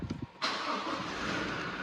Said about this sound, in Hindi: अब हम गाड़ी को स्टार्ट कर लेते हैं।